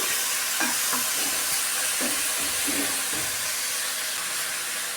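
Tomato pieces cook in a pan, making a constant soft sizzle and hiss, broken by a few light scraping stirs in an even rhythm, close by with no voices.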